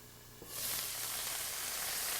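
Garlic with freshly squeezed lemon juice sizzling and caramelizing in a pan, a soft background hiss that jumps to a bright, steady frying sizzle after a brief tap and holds evenly, with no talking.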